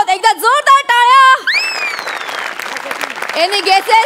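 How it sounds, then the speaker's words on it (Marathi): A studio audience at a Marathi comedy show applauds an Employee of the Year award announcement, a wash of clapping beneath a loud, gliding musical sting, with the music returning at the end. "एकदा जोरदार टाळ्या."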